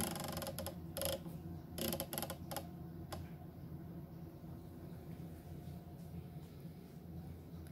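A rifle scope turret on a 4-16x44 first focal plane tactical scope is clicked back to zero: a run of crisp, close clicks in the first three seconds, then a steady low background hum.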